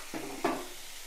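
Ridge gourd sautéing in a pan gives two short stirring scrapes close up, followed by a quiet, steady sizzle with no voices.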